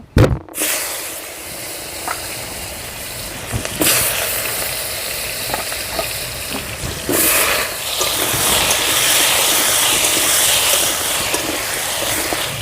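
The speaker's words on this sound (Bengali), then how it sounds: "বন্ধুরা মাছ ভাজা তেলের মধ্যে আমি আলুটা প্রথমে ভেজে নেব" Potatoes frying in oil left over from frying rohu fish, a loud steady sizzle and crackle close by, with a sharp burst at the start as they hit the hot oil and clatters of stirring.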